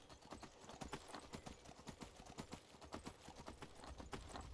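A horse's hooves beat a quick, steady gallop in Skyrim, evenly spaced clip-clop strikes continuing for several seconds at low volume.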